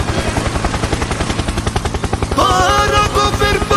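A helicopter in a Fortnite-style mobile battle royale game, rotor chop pulsing in a fast, even rhythm, loud and close, joined midway by brighter rattling game effects.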